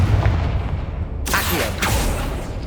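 A Confringo blasting spell explodes in the video game Hogwarts Legacy, a bright crackling burst about halfway through with a second flare soon after, set over a steady rumbling game background.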